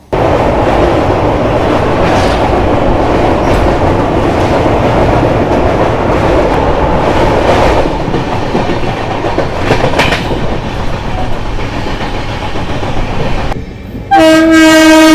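Chennai Rajdhani Express crossing a long bridge over the Godavari river: a steady, loud rumble and clatter of rolling coaches that carries on throughout, with a short horn-like tone near the end.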